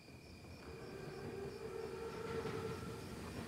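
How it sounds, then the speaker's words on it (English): An armored Panzerzug train in a World War II shooter game approaches with a steady low rumble and faint rail noise, sustained tones running above it and swelling slightly, heard from a distance. "Train's right on time."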